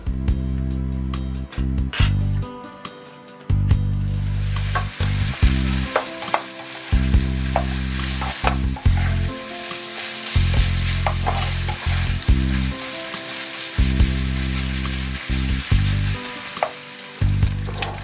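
Bacon frying in a pan for sauerkraut, a loud continuous sizzle broken by repeated clanks and scrapes of stirring.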